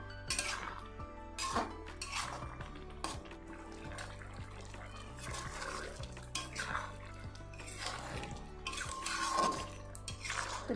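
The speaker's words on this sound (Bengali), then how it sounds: "তরকারিটা একটু নেড়ে চেড়ে দেবো।" A spoon or spatula clinks and scrapes against a pan while watermelon-rind curry with potato is stirred, giving sharp metallic taps at irregular intervals over a steady low background hum.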